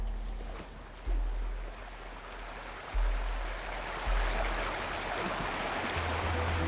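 Waterfall in the video game Wuthering Waves: a steady broadband rush of falling water fills the whole stretch, with a few low thumps and swells rising and falling beneath it.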